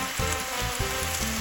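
Onions sizzle and fry steadily in a pan on a stovetop while a one-pan pizza is being made, with a continuous close crackle and no talking.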